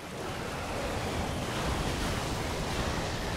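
Water in the Dark Souls game gives a continuous, full rush of waves and surf, broad and steady with a windy edge, heard alone without talk.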